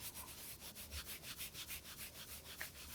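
Hands rub briskly over the outside of the knee in a steady back-and-forth rhythm, a faint close swishing friction repeated about a dozen times with no talk.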